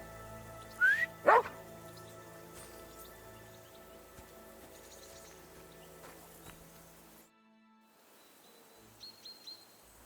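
Mutt, a dog in Kingdom Come Deliverance 2, lets out two sharp, loud barks in quick succession, followed by a quiet stretch and a few faint yips near the end.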